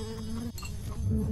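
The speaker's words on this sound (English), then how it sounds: "Hello, Mr. Bees." Buzzing bees in the video game Secrets of Grindea make a steady, continuous drone for about a second and a half, heard on their own without any talk.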